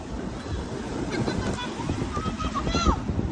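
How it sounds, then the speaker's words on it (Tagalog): Strong wind buffets an outdoor microphone with a steady broadband roar and rumble, loud and continuous throughout, with a person talking faintly underneath. "Lakas ng hangin."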